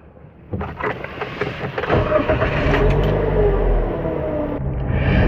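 A Daihatsu Ayla 1.2 R MT car pulls away to drive, its engine rumble building from a few clunks into a steady, close, fairly loud drone that holds to the end.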